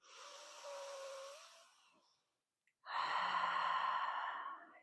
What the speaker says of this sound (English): Take a couple cleansing breaths in.